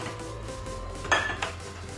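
Sweet corn and roughly chopped spinach are stirred together in a bowl, a low steady scraping with one brighter clink of the utensil against the rim partway through.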